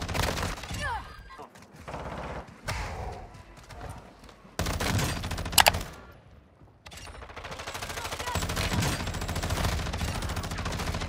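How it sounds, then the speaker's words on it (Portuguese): Rapid gunfire from a Tempus Razorback rifle in Warzone 2 comes in several loud bursts, mixed with dense game action noise and abrupt shifts in level. "Atirando aqui!"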